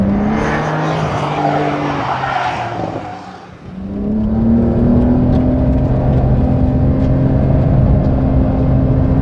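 A car with traction control and ESP switched off accelerates hard out of a bend: a loud, steady engine drone that briefly sags, then climbs again in pitch and stays strong to the end, with no talk.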